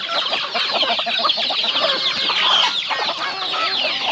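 Small chicks and chickens clucking and cheeping in a backyard brood pen, a dense continuous chorus of high peeps and clucks, close and loud throughout.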